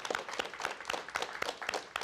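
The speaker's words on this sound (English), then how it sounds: "that's where you clap, right there" Scattered applause from a small audience right after a rope magic trick during a comedy show, with irregular claps fairly close and alone, no talk over them.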